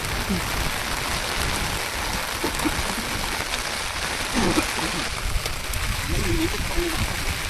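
Steady rain hissing on surfaces with splashing water during a fishing outing, continuous and fairly loud, with faint voices now and then underneath.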